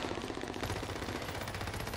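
Rapid machine-gun bursts fill a video game shootout, a dense, continuous rattle of gunfire that sounds somewhat distant and low in level.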